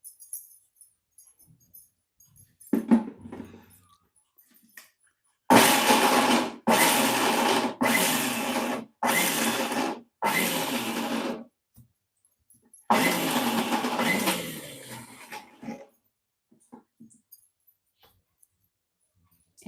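Mixer grinder grating carrots for carrot halwa, six loud bursts of motor whirring separated by short pauses, close up, alone with no talk.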